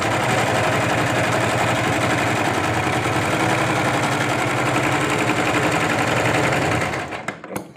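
A sewing machine stitches a sleeve, running as a loud, steady, rapid mechanical whir close by for about seven seconds before abruptly stopping, with no talk.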